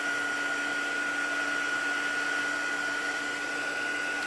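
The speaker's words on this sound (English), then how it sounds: "Using your heat tool, go ahead and emboss that." A heat embossing tool blows hot air over stamped ink on a painted harvest-themed papercraft, a steady close-up whirring hum with a faint tonal whine that runs without a break and with no talking.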